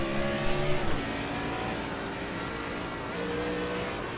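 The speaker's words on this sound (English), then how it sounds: "People already spinning tires." Stock car racing video game with Gen 4 Cup cars at Atlanta: a steady, loud drone of many engines roaring together, with brief tire-spinning whine near the start before settling into continuous engine noise.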